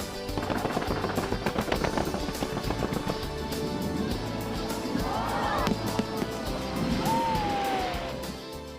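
Rapid crackling bursts of fireworks explode continuously at a fireworks festival along the Han River, dense and loud, with a crowd murmuring and cheering underneath and a brief rising whistle near the end.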